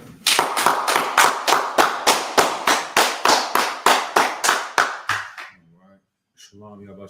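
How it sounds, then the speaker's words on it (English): Sharp, evenly spaced hand claps, about eighteen in a steady rhythm, loud and close, stop abruptly, and a voice follows after a short pause. "let's go ahead, clap it up"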